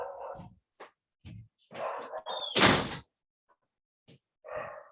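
A dog barks several times in short bursts while a door is shut with a firm thud and a scraping slide near the middle, then brief quiet before another bark.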